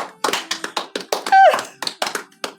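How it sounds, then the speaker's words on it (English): Sharp, irregular taps and claps sound in quick succession, like a few people clapping unevenly, with a brief electronic tone in the middle. "Why is everyone clapping?"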